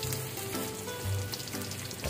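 Onions tip into hot oil and sizzle steadily in a pan for a grilled eel meal. A dense, even crackle holds close and fairly loud throughout, with no talking.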